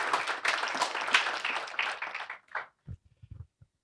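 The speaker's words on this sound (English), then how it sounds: "if you can give each other a round of applause" An awards-evening crowd gives a round of applause, a few seconds of dense clapping that tapers off into scattered claps and quiet.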